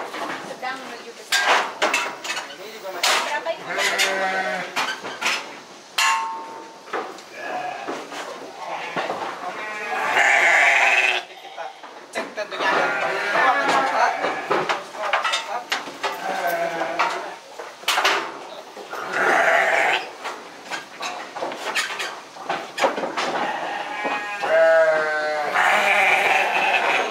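Large sacrificial sheep bleating repeatedly while being weighed one by one, many loud close calls overlapping with clatter and people talking throughout.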